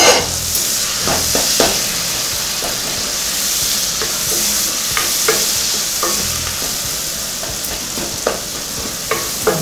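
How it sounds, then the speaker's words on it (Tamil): Tomatoes sizzle and fry in a hot pan with fennel and cinnamon seasoning while being stirred, with a constant hiss and occasional spoon scrapes and taps, close and continuous with no talking. "தக்காளி பழம் போட்டு வதக்கணும் நல்லா."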